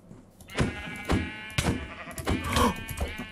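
A Minecraft sheep lets out several loud, wavering bleats in quick succession, mixed with thumping hits as it attacks, close and clear with no talk over it.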